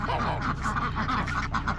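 Ducks on a farm quack in a quick, close, repeated burst lasting under two seconds.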